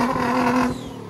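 A 600 whp Nissan GTR revs loudly and close by in a brief, strained burst that drops off toward the end.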